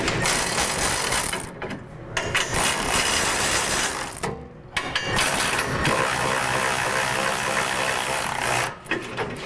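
Ratchet running bolts down on a frame hitch bracket of a Toyota Tundra, a loud continuous clicking-whirring mechanical sound with brief pauses, close up and without talk.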